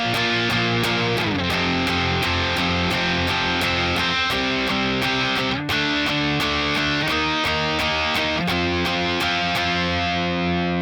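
Distorted electric guitar power chords play the second chorus of a song. The chords are heavy and driving, with rhythmic accents, a brief break near the middle, and sound close and loud with no voices.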